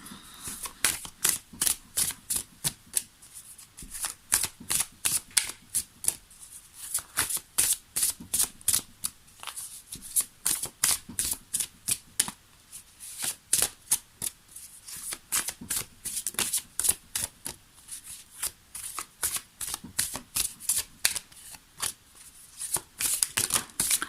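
Tarot cards are shuffled over and over at close range, a rapid run of crisp riffling flutters and slaps that keeps a steady, irregular rhythm with brief pauses, and no voice over them.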